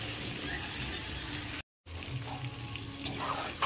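Potatoes frying in a pan with salt and turmeric, a steady close sizzle with a brief dropout midway, no talking.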